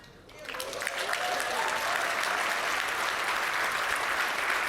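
Audience applause at a conference talk on community health centers and primary care, swelling within the first second into steady, sustained clapping from a sizable crowd that continues evenly to the end.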